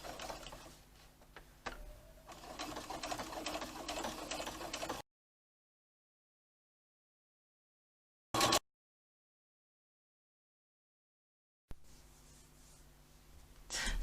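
A sewing machine top stitching a tote bag an eighth of an inch from the edge gives a steady mechanical whir for about five seconds, then falls silent apart from one brief burst before the noise resumes near the end.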